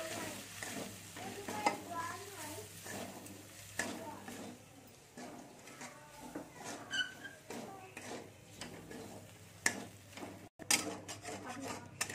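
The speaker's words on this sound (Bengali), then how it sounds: "এটাকে আমি ভালো করে কষে নিচ্ছি একটু" A masala of chili, coriander and cumin powder is sautéed in a pan, faint frying hiss under repeated scraping and knocking spoon strokes, quiet and uneven throughout.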